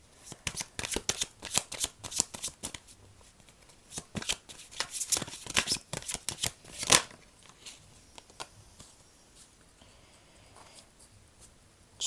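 A tarot card deck is shuffled close up in quick bursts of crisp riffling and flicking, louder at first and then thinning into sparse soft taps and slides.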